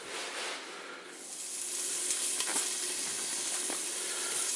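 Peppers frying in a hot pan for tacos, a close steady sizzle and hiss that swells after a brief dip, with a few faint clicks, and no one speaking.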